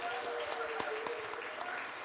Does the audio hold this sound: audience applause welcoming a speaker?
yes